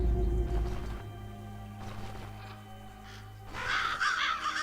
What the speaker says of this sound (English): Oh, the raven sounds. It's so good.